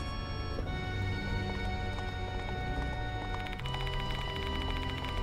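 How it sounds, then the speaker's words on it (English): Horse gallop clip-clop in the horror game Death Mark, on a deserted Metro Expressway at night, steady hoofbeats running throughout over a continuous background drone, growing denser near the end. "It sounded like the clop of a horse's gallop."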